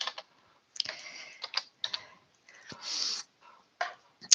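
Bursts of typing on a computer keyboard during a live stream, quick clustered key clicks separated by short pauses, close and fairly quiet with no talking.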